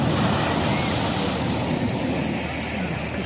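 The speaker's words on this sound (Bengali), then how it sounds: "কি সুন্দর ঢেউ দেখেছো ওইদিকে?" Ocean waves surging and breaking on a shore, a loud continuous roar of surf mixed with heavy wind buffeting the microphone, close and constant throughout.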